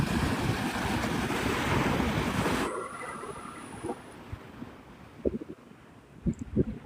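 Ocean surf at Navarre Beach, Florida, a loud steady wash of breaking waves that suddenly drops to a softer rumble with occasional close bumps and thuds.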